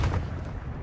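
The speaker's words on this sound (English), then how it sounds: "Stun grenade!" A stun grenade goes off in the Call of Duty: Modern Warfare III video game on the Favela map, a single short, heavy, close boom that rumbles and fades within a second.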